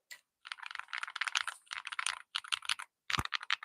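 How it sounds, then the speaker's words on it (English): Modded mechanical keyboard switches typed on in quick bursts, crisp close clacks in rapid runs separated by brief pauses, with one heavier thock near the end. "I think these switches sound better, specifically in this keyboard."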